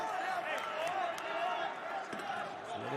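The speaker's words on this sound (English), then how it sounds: "Gopher crowd trying to get into this one." A Minnesota Gopher crowd cheers at a Big Ten wrestling match against Ohio State, a steady, diffuse roar of the arena audience under a commentator talking, with occasional bumps and claps.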